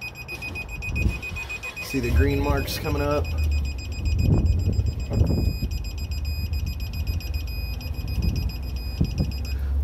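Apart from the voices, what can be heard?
digital torque wrench beeping while torquing cylinder head bolts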